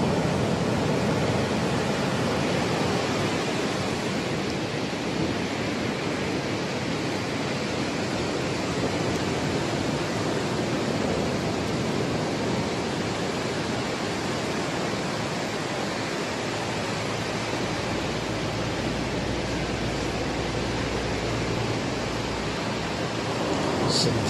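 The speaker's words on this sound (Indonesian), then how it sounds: "Setiap kali dia memainkan tangannya, ombak seketika besar ya." Big ocean waves crashing on a beach, a steady loud roar of surf with constant broadband wash and no distinct breaks between swells.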